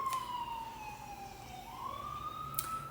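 A distant emergency siren wails, its tone sliding slowly down then rising again, faint and steady over low background hum.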